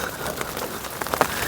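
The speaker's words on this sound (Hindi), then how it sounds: "बारिश तो आ ही रही है और ओले अलग गिरने लग रहे हैं, मोटे मोटे एकदम" Rain and large hailstones falling in the Chopta valley onto an open umbrella and the ground around it, a dense, close hiss of patter broken by a few sharper ticks from heavier stones.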